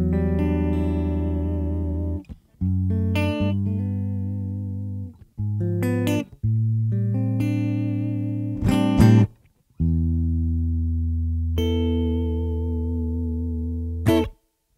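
An electric guitar played through a Roland Cube Street EX busking amp on its acoustic simulation model rings out sustained chords and notes in phrases separated by brief pauses, loud and clean with no talking.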